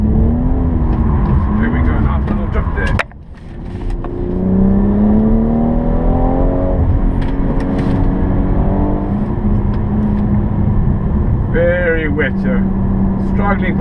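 A 2017 BMW M240i drifting around a wet race track at Killarney International Raceway, its engine droning loudly and rising and falling in pitch as the revs change, with a sudden brief dip early on and someone talking over it.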